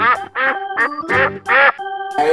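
A cartoon duck gives a rapid string of loud, nasal quacks, about five in quick succession, close and clear with no talking.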